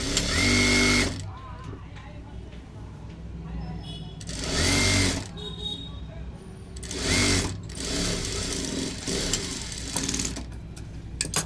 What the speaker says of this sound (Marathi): इथून अर्धा इंच आपण स्टिच करून घेणार आहे